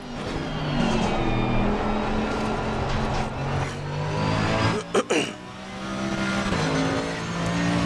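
Race car engine in the sim racing game Assetto Corsa Competizione, a loud sustained engine drone with rising and falling pitch and a sharp break around a gear shift, no talk.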